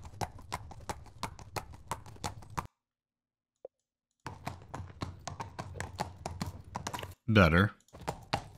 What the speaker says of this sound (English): horse running. I'm going to generate that.